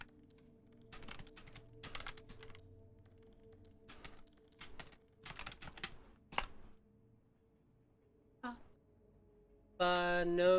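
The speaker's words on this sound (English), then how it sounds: "So I'm only typing the yellow letters." Bursts of keyboard typing from the video game Dead Letter Dept., clicking in quick uneven clusters with pauses between, ending in a louder burst of game sounds.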